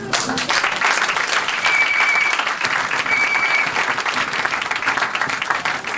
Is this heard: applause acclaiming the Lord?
yes